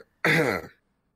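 A single short, raspy throat clearing, close and distinct, followed by silence.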